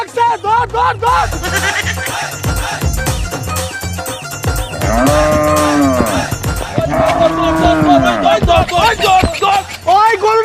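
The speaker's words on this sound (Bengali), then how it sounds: "আমার গরু" Cattle at a rural livestock market, with a cow giving several long, loud, close moos. People talk and shout throughout.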